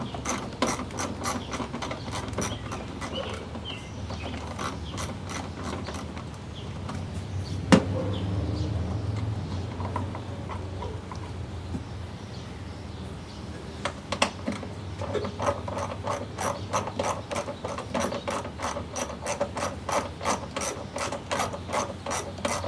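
A ratchet turning an 8mm socket removes the wiper motor bolts on a 1988 Ford Thunderbird Turbo Coupe. Quick bursts of close, crisp clicking come in rows, with a short pause in the middle and no talking.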